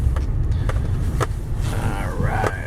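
A 2014 Ford F150 XLT SuperCrew 4x4 pickup truck rolls slowly through a tight course of cones, its engine a steady low rumble throughout with faint creaks and brief clicks over it.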